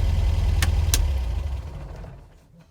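A warm MGB GT classic car with a choke carburettor idles with a low rumble, then two sharp clicks sound as the engine is switched off and the rumble slowly dies away to near silence.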